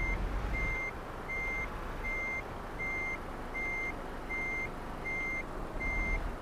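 Steady reversing beeps from a truck backing up in Euro Truck Simulator 2, evenly spaced electronic tones repeating about once a second over a low engine rumble.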